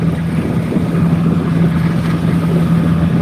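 A Philippine boat's engine drones steadily and loudly throughout, mixed with heavy wind buffeting and the wash of water around the hull.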